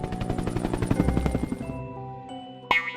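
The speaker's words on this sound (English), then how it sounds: "H is for helicopter." Helicopter with rapid rotor chopping pulses that slow and fade over about a second and a half, followed by a lingering tonal hum and a brief sharp note near the end.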